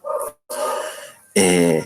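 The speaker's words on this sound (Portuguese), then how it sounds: "Não sei se vocês estão ouvindo o cachorro da minha vizinha, tá aqui atrapalhando a minha gravação." A neighbour's dog barks from nearby behind the house in a few loud, short bursts, one after another.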